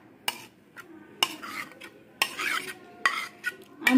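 Mixed vegetable curry poured and stirred in a pan: sharp metal spoon knocks against the pan at regular intervals, each followed by wet scraping and sloshing, close and fairly quiet.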